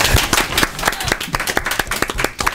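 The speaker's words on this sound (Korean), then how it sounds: "대부분 이럴 때 박수가 나오고 막 그러더라고요" Audience at a mentoring and leadership academy lecture breaking into applause, distinct individual claps in an uneven, scattered rhythm, fairly close and loud.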